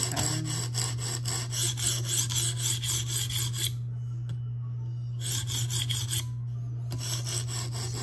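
A Spyderco Police 4 knife with a K390 steel blade being reprofiled: repeated rhythmic rasping strokes of the edge on a sharpening surface, broken by two short pauses, close up over a constant low electrical hum.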